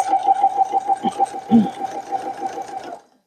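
A sewing machine stitches the casing of a fabric gift bag, its needle chattering in a fast, even rhythm close by for about three seconds before stopping abruptly.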